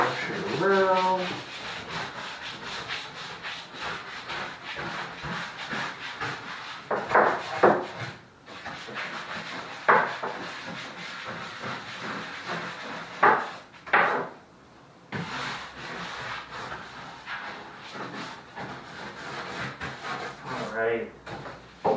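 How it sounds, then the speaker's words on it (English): A brush scrubbing around a bathroom shower, with repeated rubbing strokes in bursts and brief pauses, mostly up close, while a person talks over part of it. "That's where this brush comes in handy, just to make sure I get everything. I can kind of just brush it around."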